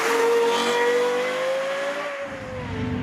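A Lexus LFA Nurburgring edition with a 4.8-litre V10 sings at high revs, its sharp engine note climbing and then easing off as the car passes close and loud, with a brief tyre squeal.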